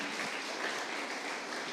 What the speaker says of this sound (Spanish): ¿Cuántos les pueden dar el mejor aplauso al Rey de Reyes y Señor de Señor?